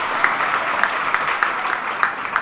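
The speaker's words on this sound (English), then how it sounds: "Give them a round of applause." Concert audience applauding a beginner school band performance, a steady dense wash of clapping with scattered sharper claps, moderately loud and without talk.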